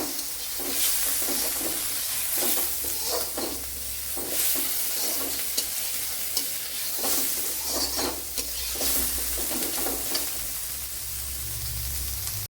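Tomatoes added to softened onions frying in a pan for an Indian egg masala, giving a steady close sizzle with repeated scraping stir strokes throughout, no voices.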